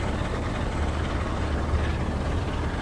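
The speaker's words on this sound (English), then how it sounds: "This is what the engine should sound like." A low, steady engine rumble from a train in Train Sim World 5 drones continuously and fairly loudly, with no talk over it.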